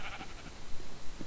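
Minecraft sheep bleating in the open among roaming horses, a few short quiet bleats spaced out over soft background ambience.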